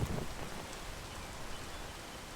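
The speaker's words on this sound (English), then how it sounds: "It's freaking raining!" Rain falling in a video game, a soft continuous hiss of drops with no distinct individual hits, faint and steady, with a brief low thump at the start.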